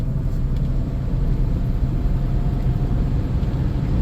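A 1991 Dodge Caravan on the move, heard from inside as a steady low engine and road rumble that holds an even level throughout, with no talk.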